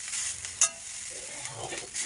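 Food stirred in hot oil in a home kitchen, with a steady broadband sizzle and a sharp scrape or clink of the utensil against the pan partway through, close and alone.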